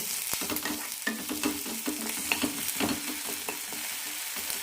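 Carrots sauté in a hot pan, a soft crackling sizzle punctuated by repeated close taps and scrapes of a spatula stirring them, with no voices.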